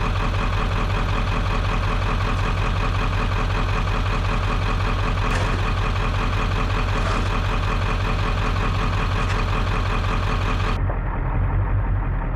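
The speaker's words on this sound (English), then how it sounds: "I don't dare shut the truck off" A Ford OBS 7.3 Powerstroke diesel truck idles during snow plowing, giving a steady, loud, low rumble with no change in rhythm before the brighter part of the sound cuts off near the end.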